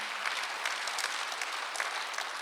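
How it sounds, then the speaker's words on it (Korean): Church congregation applauding during a Sunday worship service, a steady wash of many hands clapping together throughout, fairly close and even in level, with no talking over it. "박수로 하세요."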